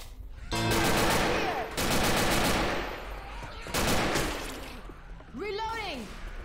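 Sustained automatic gunfire in Left 4 Dead 2 comes in three long, loud close bursts separated by short gaps, with a voice calling out near the end of the stretch.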